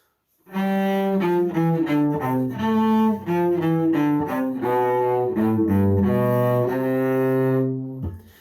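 A cello plays the second line of Suzuki Minuet No. 1 in a smooth, bowed melody of connected notes, close and full, without any voice.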